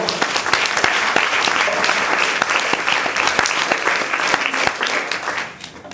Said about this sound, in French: c'est pour ça que je vous demande d'applaudir très fort le lapin blanc